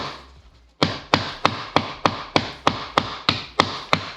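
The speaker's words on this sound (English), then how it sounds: "we just hammer it down through" A hammer drives a laminate flooring plank into place in a hallway, about eleven sharp, evenly spaced knocks in a steady rhythm after a quiet start, close and loud.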